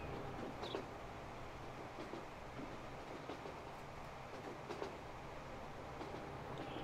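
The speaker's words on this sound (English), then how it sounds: "Oh, look, it's a train going the other way." Train from Transport Fever 2 rolling on rails, a steady continuous rumble with faint rhythmic wheel clicks, heard from inside a moving train as another passes the other way, no talking.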